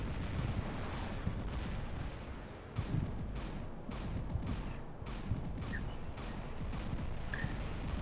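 Magnum cannons on a Galahad robot firing at an enemy robot in a mech video game, heavy booming shots roughly once a second over a dense rumbling battle din.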